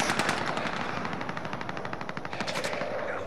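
Rapid automatic gunfire in Call of Duty: Modern Warfare, a steady stream of close, loud bursts with sharp repeated cracks running through the whole stretch.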